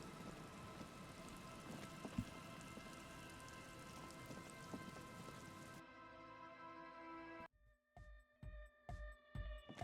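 Steady rain in the video game Disco Elysium patters and hisses, then cuts out abruptly, followed by a few sharp, rhythmic thumps against a quiet backdrop.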